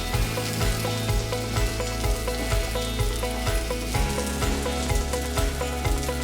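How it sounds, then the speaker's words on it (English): Mushrooms sautéing in oil in a pan for chicken Marsala, a dense continuous sizzle and crackle with soft clinks and taps, fairly loud and close, with no talking. "Because you want to let these mushrooms saute"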